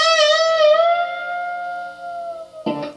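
A sustained electric guitar note bent up a step and a half in an overbend from a country solo, ringing clearly and slowly fading, then cut by a brief picked attack at the end.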